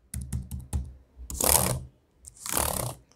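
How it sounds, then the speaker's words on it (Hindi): Typing on a Lenovo Ideapad Slim 3 laptop keyboard: a quick run of separate key clicks, then two longer bursts of rapid clattering keystrokes, close and fairly quiet, with no talking. "तो ऐसे कुछ क्लिकिंग साउंड है"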